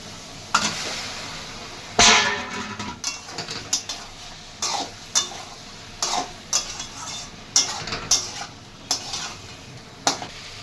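Taro pieces stir-fried with spices in a pan: repeated scraping and clattering strokes of a utensil against the pan over a background sizzle, close and fairly loud, in irregular bursts with no talking.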